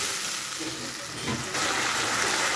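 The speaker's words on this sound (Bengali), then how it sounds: "তো এর মধ্যে এই জলটা দিয়ে দিব" Water hits a frying spice paste in a pan, and a steady close hiss swells into a louder, brighter sizzle halfway through.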